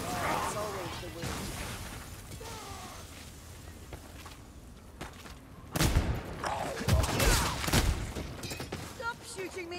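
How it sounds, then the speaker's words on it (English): Gunfire in Warhammer Vermintide during a Witch Hunter Captain mission against the Halescourge: a rattling fusillade of loud shots and crashes bursts out midway after quieter combat noise, with character voices talking over it. "Stop shooting me, Carillion!"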